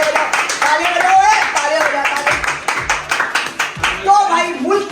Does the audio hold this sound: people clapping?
yes